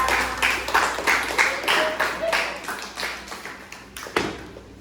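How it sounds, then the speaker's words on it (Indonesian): Seventh-grade students in a classroom clap for group 3's presentation, a loose burst of individual claps and taps with some rhythmic pulses, fading toward the end, with a voice faintly mixed in. "Tepuk tangan dari kelompok 3"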